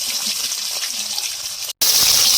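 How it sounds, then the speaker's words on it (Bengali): Pieces of salted, turmeric-coated fish fry a few at a time in hot oil, giving a close, steady sizzling hiss broken by a brief gap near the end. "সব একসাথে দেবো না, 2 পিস 3 পিস করে ভেজে নেব।"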